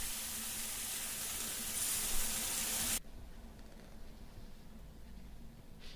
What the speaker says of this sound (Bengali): তারপর তেলের মধ্যে আমি 5 ফোড়ন দিয়ে আমি পুঁই শাকটাকে ছেড়ে দেব